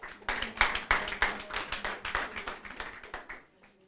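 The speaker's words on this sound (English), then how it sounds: "Let's clap." An audience claps at a university moot court competition. The applause is steady and rhythmic at close range, made of many individual hand claps, and it fades out near the end.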